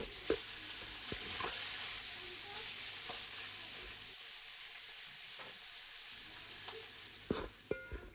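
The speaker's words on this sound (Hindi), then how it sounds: "अब बारी है इसमें हमारी चीनी जो हमने मेल्ट करके रखी थी, हम चलाते हुए इसमें चीनी डालेंगे" Sindhi khorakh of roasted flour, dry fruits, ghee and melted sugar sizzles softly in a pan while being stirred, a steady frying hiss broken by a few spoon clicks and scrapes.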